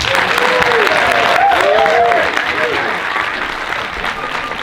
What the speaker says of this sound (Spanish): Así que aplaudid a Richard Stanley.